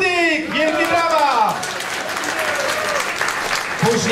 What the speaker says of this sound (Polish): za perkusją zasiądzie Marek Surdyk! Wielkie brawa!